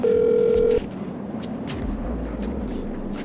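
A telephone dial tone plays steadily and loud for under a second, then cuts off, leaving low rumbling ambience with faint scattered clicks, in the Silent Hill: Shattered Memories video game.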